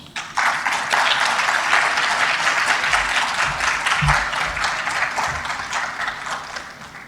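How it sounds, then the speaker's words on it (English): An audience at a conference session breaks into loud, sustained applause, a dense wash of clapping that swells quickly and then slowly tapers off. "I noticed that there was some applause for Sugar City St. Kitts"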